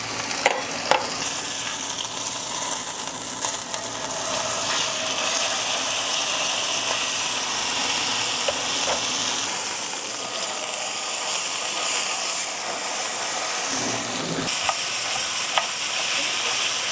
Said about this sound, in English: I'm gonna fry up some pork sausage and some turkey bacon